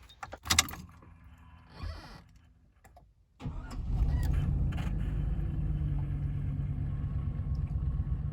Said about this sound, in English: Let's get in the vehicle, start it up, and see how it's running